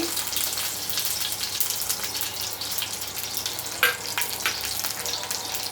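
Mustard seeds, curry leaves and fenugreek seeds frying in hot oil give a loud, steady sizzle with a sharp pop near the middle, heard close up without speech.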